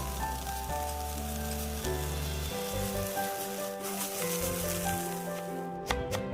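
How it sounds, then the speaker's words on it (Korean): Finely chopped cauliflower stir-frying in 10 g of butter to make cauliflower rice gives a steady, close sizzle that holds throughout, with a soft background hum and a few stirring clinks near the end. "잘 다진 콜리플라워를 버터 10g의 수분을 제거하여 볶아주면 콜리플라워 밥이 완성됩니다."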